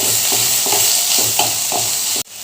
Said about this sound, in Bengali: এবার তেলের মধ্যে দিয়ে দিচ্ছি সরু সরু করে কেটে রাখা আলু এবার আলুগুলো একটু ভাজা ভাজা করে নিলাম